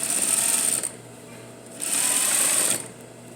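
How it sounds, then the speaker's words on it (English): Sewing machine stitching a half-inch seam on the back of a pair of jeans, two short close bursts of fast motor whir with a brief pause between them. "So I'm going to sew a 1/2 inch seam allowance"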